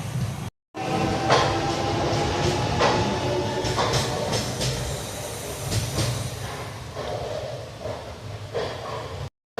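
An express train between Tiruvannamalai and Tambaram rumbles past nearby, a steady loud roar of wheels on rails with hissing and rhythmic clacks throughout.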